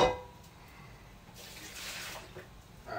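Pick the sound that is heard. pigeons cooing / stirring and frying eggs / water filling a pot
water filling a pot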